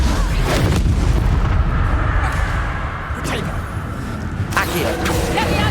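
A Confringo blast spell explodes in Hogwarts Legacy amid fast spellcasting combat, several booming bursts over dense, loud battle noise, with voices heard during the fight.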